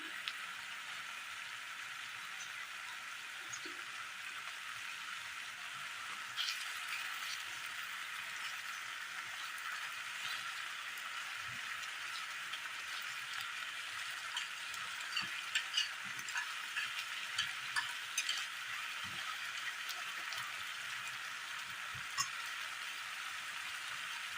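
A fish curry bubbles and sizzles softly in a pan after a little oil is added, with a faint continuous crackle and occasional light pops for a long stretch.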